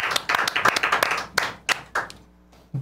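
Hands clapping in a quick irregular burst of sharp claps, then a few slower separate claps after a brief pause, close and loud, with no talk.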